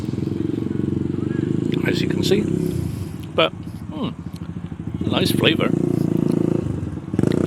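Small motorcycles ride around a park nearby, their buzzing engines droning steadily with rising and falling revs. Someone talks over the noise.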